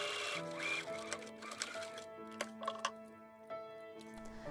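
A sewing machine runs stitching a 1944-style vintage dress sewn from a modern pattern, with a quiet steady hum broken by several short mechanical clicks and taps close by.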